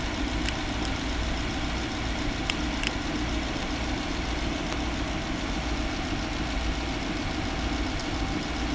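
A car engine idles steadily and continuously, a close, even mechanical rumble with faint ticking on top and no voices.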